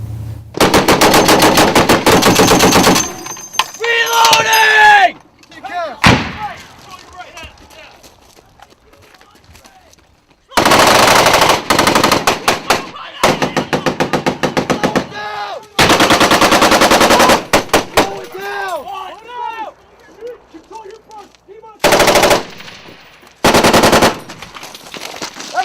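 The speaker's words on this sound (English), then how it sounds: "Hey, gunshot right here!" Bursts of heavy machine gun fire, including a .50 caliber weapon, crack loud and close in long sustained volleys with short gaps, while shouting voices and a horse-like whinny sound in the quieter stretches between.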